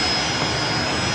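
A Fokker 100 jet airliner at Brisbane Airport, its engines giving a steady, fairly loud broadband roar throughout, with no voices over it.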